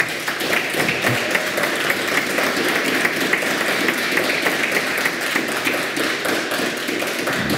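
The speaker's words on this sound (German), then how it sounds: "Vielleicht gleich mal den Applaus für Julian." Dense, steady audience applause at a startup pitch slam event, continuous clapping from a crowd for several seconds without talk.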